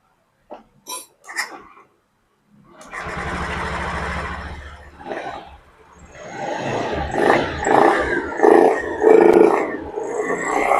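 A motorcycle engine fires up after a repair of a badly damaged piston and connecting rod, then revs in repeated throttle blips that rise and fall, loud and close, following a few short knocks before starting.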